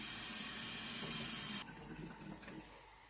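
Tap water runs steadily into a sink while a mackerel is rinsed, a close hiss for the first half, then quieter splashing and trickling as the flow drops.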